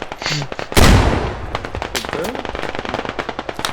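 Rapid bursts of gunfire in the game Squad crackle loudly after one big blast, rattling on in quick uneven volleys while voices talk over the shooting.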